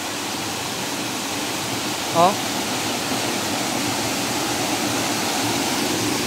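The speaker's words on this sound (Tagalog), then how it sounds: "Makikita nyo, sobrang lakas na ng ulan" Steady heavy rain hisses over a forest in a continuous close wash, with one brief exclaimed voice rising briefly above it near the start.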